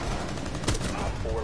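Gunfire rattles in a video game, a short burst of shots heard faintly under a noisy background.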